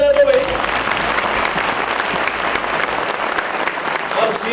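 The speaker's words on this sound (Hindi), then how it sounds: "तो अश्विनी वैष्णव जी के लिए मैं जोरदार ताली बजा दो भाई।" A crowd at an indoor railway association gathering applauds Ashwini Vaishnaw. The clapping is loud, dense and sustained throughout, and voices mix in with it.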